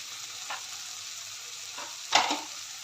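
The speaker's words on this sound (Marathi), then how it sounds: "हे सर्व व्यवस्थित मिक्स करून घेऊया" A spatula stirs garam masala and onion-garlic masala in a frying pan over a low sizzle, with a few scraping strokes and one louder scrape near the end, no talking.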